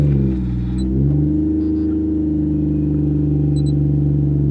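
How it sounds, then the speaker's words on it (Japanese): A 2000s Toyota Mark II iR-V (JZX110) with a 1JZ-GTE turbo engine turns over and starts within the first second, then settles into a steady, smooth idle hum nearby. "こんな感じでエンジンかけると"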